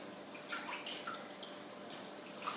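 Olives freshly soaked in ash and water are rinsed by hand, giving soft, faint splashes and drips in a quiet kitchen, with no talk over them.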